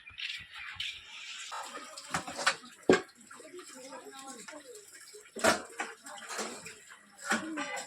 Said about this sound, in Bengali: বাসন ধোয়া কমপ্লিট হলো